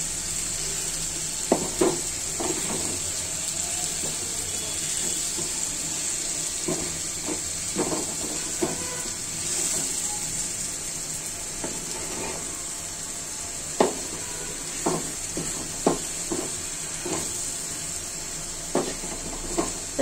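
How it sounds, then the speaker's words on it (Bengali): Snake gourd fries in a pan with a low, constant sizzle, broken by scattered spatula scrapes and knocks as the pieces are stirred now and then. "নাড়াচাড়া করে দিব।"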